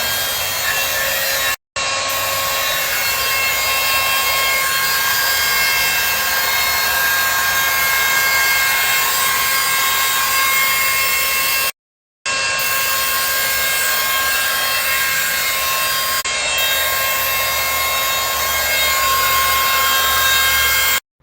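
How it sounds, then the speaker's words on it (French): A three-setting hair dryer blows a loud, steady rushing whoosh while drying hair, cutting out briefly twice before running on unchanged. "j'ai plus ou moins séché mes cheveux"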